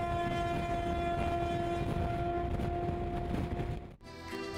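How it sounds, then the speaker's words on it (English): The whistle of a Trans-Siberian train sounds as a long, loud, sustained tonal blast over the rumble of the moving train, cutting off briefly near the end. "pulling the train whistle"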